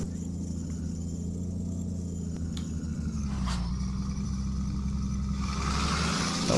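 A loaded Mercedes-Benz 1935 dump truck in Euro Truck Simulator 2 drones with a steady low engine rumble that climbs slightly in pitch as it pulls under load, with faint clicks over the constant hum.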